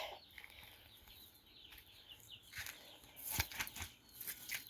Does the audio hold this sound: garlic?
no